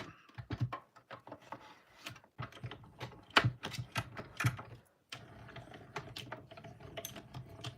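A hand-cranked die cutting machine feeding stamping plates, giving a run of dense clicking and ratcheting ticks that sound close and fairly quiet, then a short gap and a softer steady grinding roll.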